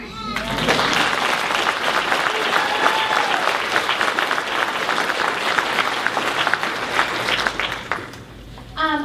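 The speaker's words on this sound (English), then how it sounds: "You can clap for them again." An audience applauds a middle school choir at a fall concert in a school hall in Granger, Indiana, with dense, loud clapping that runs steadily for about eight seconds before fading out, and a voice briefly heard at the edges.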